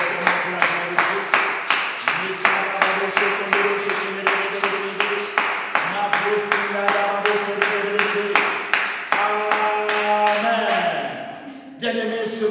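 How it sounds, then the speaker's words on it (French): Church congregation clapping in a steady rhythmic beat, loud and close, along with sung or chanted acclamation and sustained tones throughout, ending in a brief flurry of applause. "Nous acclamons fortement pour la gloire de Dieu."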